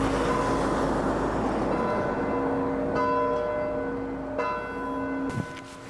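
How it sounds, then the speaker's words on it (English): A town bell rings out for a tornado anniversary, with a few sustained metallic tolls ringing out and decaying over steady low outdoor rumble, no voices. "Greenfield is marking the anniversary with a bell ringing."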